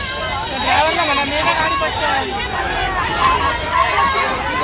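Dense hubbub of a large crowd of protesting party workers at Kranti Chowk, many overlapping voices chattering and calling at once, loud and continuous throughout.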